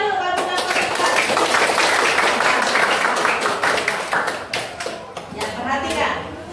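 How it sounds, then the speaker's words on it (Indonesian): A class claps hands together in a busy burst of overlapping claps, fairly close and loud, with voices of children and a teacher mixed in before it thins out toward the end. "Tepuk tangan dulu kalau sudah konsentrasi"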